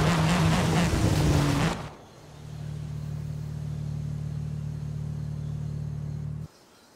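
A Dodge Dart Hemi idles in the racing game Forza Horizon 5, a loud rush of game music and effects cutting abruptly to a steady low, even engine drone that stops suddenly at the end.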